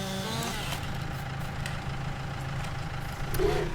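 A very small tractor hauling a 3.5 ton rear weight idles in Farming Simulator 19, a low, steady engine hum held at moderate volume in a forest setting.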